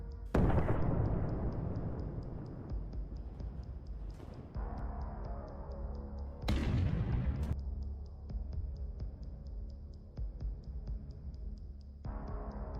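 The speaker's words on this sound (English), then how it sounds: "it rolled over a mine, and the powerful explosion brought it to a halt" A powerful mine explosion as a Russian tank rolls over it in a war zone, with a loud, sharp blast followed by a long, rumbling decay and further heavy booms, all without talk.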